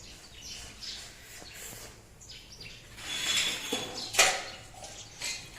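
Sparrows chirp in short scattered bursts near a village yard where grain has been thrown for them, with light clinks and rustles in the background and no speech.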